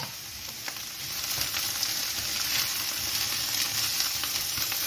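Petits gris and chanterelle mushrooms sauté in a pan with a steady, close, crackling sizzle broken by occasional sharper pops and stirring.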